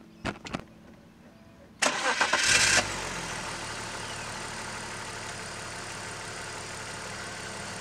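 A BMW E46 Touring's M54 engine cranks and catches after a few clicks, revs briefly, then settles into a smooth, quiet, steady idle heard up close with no talking.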